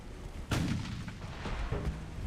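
A torpedo launch in a naval video game with a US campaign against the British, a sudden muffled thump followed by rumbling splash-like bursts over a low, steady ship hum.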